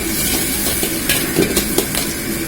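Pork belly stir-fries in a wok with ginger, garlic, Sichuan pepper and chili, a steady loud hiss of hot oil with a few brief louder crackles and scrapes.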